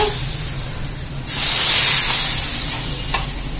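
A loud burst of hot-oil sizzling and spattering rises suddenly as spices are tempered for sambar in a clay pot, hissing strongly for a couple of seconds before settling into a softer crackle.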